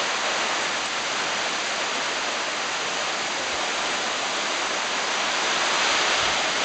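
Heavy rain and wind from Tropical Storm Maria roar as a steady, dense wash of hiss with no break in intensity, loud and close to the microphone, and no voices over it.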